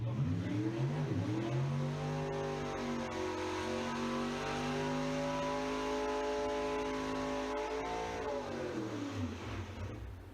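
A Nostalgia Funny Car engine at a drag strip, heard on a radio stream, rises and falls in pitch as it revs and passes, loud and continuous for about ten seconds.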